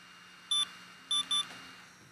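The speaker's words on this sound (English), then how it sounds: "As you can hear, it's got that beep to let you know it's done." Three short, high electronic beeps from an OSMO device after a firmware update: one, a brief pause, then a quick pair, over a faint steady hum.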